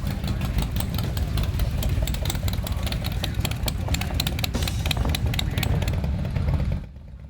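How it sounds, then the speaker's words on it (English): A loud motorcycle engine idles with a rough, lumpy throb, close and continuous, before cutting off abruptly near the end. "Funny thing about loud motorcycles, one by itself can be obnoxious"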